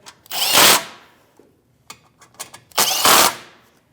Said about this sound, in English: I just have a 1/4 inch drive here.